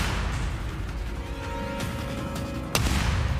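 A sharp gunshot bang cracks out close and loud near the end, cutting through a dense rumbling background that runs steadily throughout.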